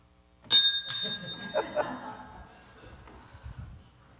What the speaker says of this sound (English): would you like to ring the bell?